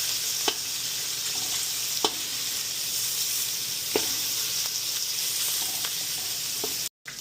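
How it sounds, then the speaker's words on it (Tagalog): Meat sizzles and fries in its own rendered fat in a pan, a steady close crackling hiss with occasional sharper pops, no talking. "So, napipirito na po siya sa sarili niyang mantika."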